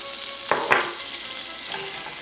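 Garlic dropped into hot butter in a pan, two quick close clatters as it lands and is stirred, then a soft steady sizzle underneath.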